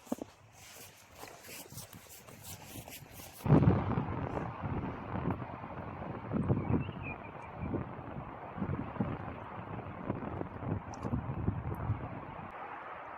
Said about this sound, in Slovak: Dneska máme tiež taký vietor, pofúkuje nám